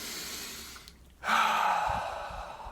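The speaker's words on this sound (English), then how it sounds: "So breathing in." A single deep breath drawn in close to the microphone, a soft rushing inhale that swells after a brief silence and holds steady for over a second.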